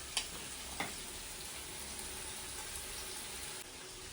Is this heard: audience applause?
no